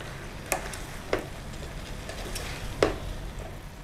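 Potatoes and pointed gourd are stirred with spices in a cooking pan. Three short, distinct scraping clacks ring out against a soft, steady background hiss.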